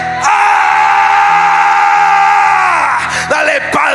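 A church congregation shouting war cries together in one loud, sustained roar that swells for several seconds and then breaks into scattered cheers.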